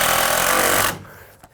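Power drill driving a long screw into wooden shed rafters, a loud continuous grinding whir that stops abruptly partway through, followed by a faint clunk.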